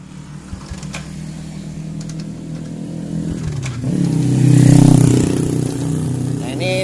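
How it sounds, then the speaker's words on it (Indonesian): A Kawasaki Kaze R motorcycle is kick-started while under test for a CDI check. The idle hum rises partway through into a louder running engine that swells and then steadies, close by. "Oke, kita coba engkol lagi nih."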